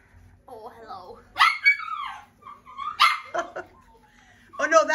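Young puppies from a litter yip, whimper and bark in short high bursts close by, while someone talks softly to them.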